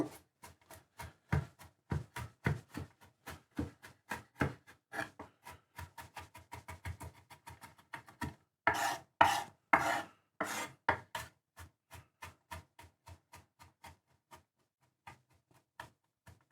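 Rapid chopping of a peeled garlic clove with a knife on a cutting board, many quick close taps in an uneven rhythm with a louder burst of strokes midway, then slowing to sparse taps and stopping; no talking.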